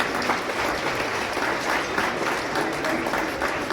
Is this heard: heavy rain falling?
no